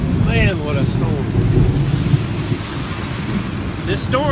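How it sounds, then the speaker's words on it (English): A sudden storm in Kentucky, with steady roaring wind buffeting the microphone and deep rolling thunder rumbling underneath; a voice briefly surfaces near the start and end. "man, what a storm."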